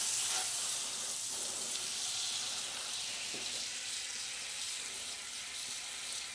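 Butter sizzling in a hot pan for panini, a close, steady hiss with a few soft pops that fades slightly toward the end.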